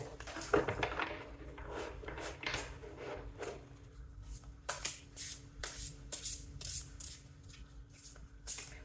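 Tarot cards shuffled by hand, a run of soft riffling flutters early on giving way to crisp, separate card snaps and slaps spaced out toward the end, close and fairly quiet with no talk.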